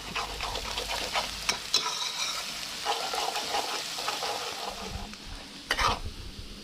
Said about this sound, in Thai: เราก็ผัดเครื่องเทศของเรานะครับ จน เหลืองกรอบแต่กลิ่นหอมนะครับ